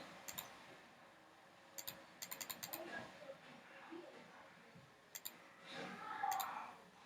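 Computer mouse clicks during image editing in Photoshop, sharp close clicks in short bursts of two to five spread across the stretch, over quiet room noise.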